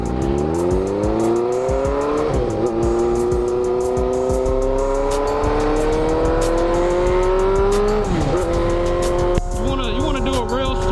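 Motorcycle engine revving up loudly and steadily, its pitch climbing through two gear shifts with a clutch, with brief dips where the throttle eases before building again.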